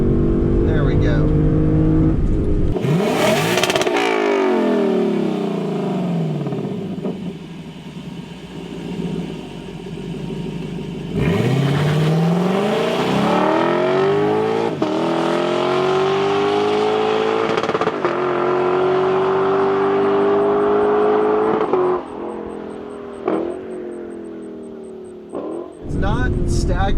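A Lexus LC500 convertible's engine roars at wide open throttle, climbing loudly through the revs, dropping briefly at each shift, then surging again with a rising pitch. Someone talks over the roar.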